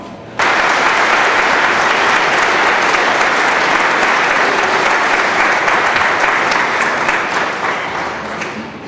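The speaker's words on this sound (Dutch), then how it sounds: "En we kunnen dit misschien het beste onderstrepen door het klaterende applaus." Loud, sustained applause from a church congregation at a First Communion Mass in Helden, a dense wash of clapping that begins abruptly and carries on steadily before easing slightly toward the end.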